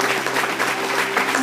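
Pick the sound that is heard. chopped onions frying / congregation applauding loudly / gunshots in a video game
congregation applauding loudly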